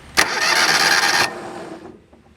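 Kawasaki engine on a John Deere 320 lawn tractor cranking over fast without catching for lack of fuel, a loud steady starter whir lasting about a second before dropping to quieter rattling.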